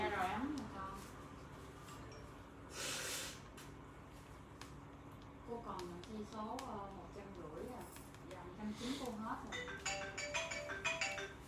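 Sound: phone ringtone ringing

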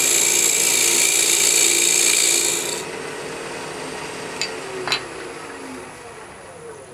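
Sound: lathe turning acrylic to true up an inside edge

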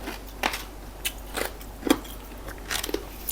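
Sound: chewing crunchy star gooseberry salad with crispy fish

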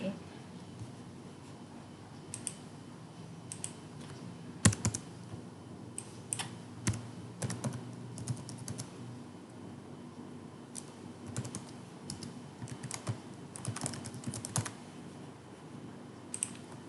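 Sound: typing an email address on a computer keyboard

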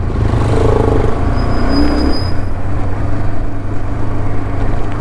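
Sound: car passing by in a hurry on a street

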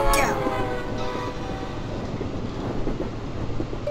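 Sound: train passing in video game

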